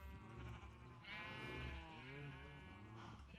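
A sheep in the video game Minecraft gives a few drawn-out, wavering bleats that sound close and fairly loud, with no talking over them.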